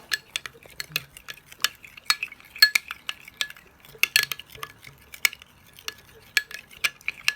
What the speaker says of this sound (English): We're going to mix this up.